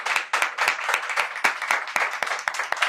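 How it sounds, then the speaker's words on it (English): A small audience at a talk show claps for a guest, with a brief burst of loose, uneven hand claps close by. "ladies and gentlemen, please give a clapping for Prateek"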